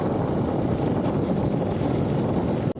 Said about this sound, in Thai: โอ้ลมแรงมากๆเลยครับไม่รู้จะได้ยินเสียงบรรยายไหม